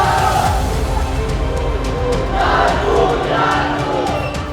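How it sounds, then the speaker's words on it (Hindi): A rioting crowd on city streets in Nagpur roars and shouts in a dense, continuous swell, loud and near with surging peaks of voices. "ये वीडियो उसी भीड़ का है जो नागपुर की सड़कों पर उतरी"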